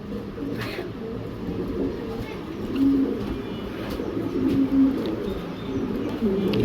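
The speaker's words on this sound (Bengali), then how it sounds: "টপ কোয়ালিটির একজোড়া হোয়াইট জেনেস কবুতর দেখেন একেবারে ফুল মুস্তির মধ্যে আছে" A pair of white pigeons coo softly in repeated low phrases in a pigeon loft, against a busy background murmur.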